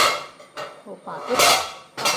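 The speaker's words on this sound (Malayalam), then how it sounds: "പാത്രം ഇപ്പം നിരത്തിയിട്ട് വീണേ" A cooking pot drops and clatters against a hard kitchen surface after a gas stove is switched off during ghee rice and chicken kurma preparation, giving sharp metallic bursts near the mic with a brief exclamation and talk between.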